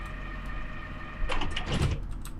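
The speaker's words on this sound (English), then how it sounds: "let's get a closing shot here of the door" U-Bahn train doors on a Frankfurt line in Train Simulator 2015 slide shut with a brief mechanical rush and thud over a steady electrical hum from the stationary train.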